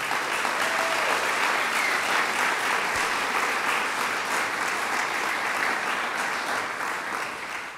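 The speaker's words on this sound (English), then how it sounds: "Let's give her a round of applause." Steady, dense applause from a crowd at a state bill-signing ceremony for medical marijuana, applauding a woman who brought the issue to the legislature; sustained clapping holds evenly before easing slightly at the end.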